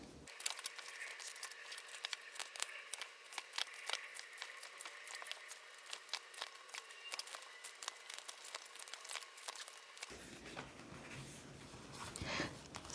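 Pages of a disc-bound, letter-size planner sticker book being flipped quickly, a close, soft run of papery flutters and rustles with no talk.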